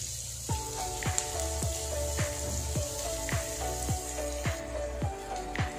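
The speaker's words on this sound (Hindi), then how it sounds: "अब हम इसमें 1 कप बारीक कटा हुआ प्याज डालेंगे और तब तक पका लेंगे जब तक प्याज ट्रांसलूसेंट नहीं हो जाते" Finely chopped onion sizzles steadily in hot oil in a pan, a dense close crackle with repeated sharp taps of a spoon or spatula against the pan at a regular pace.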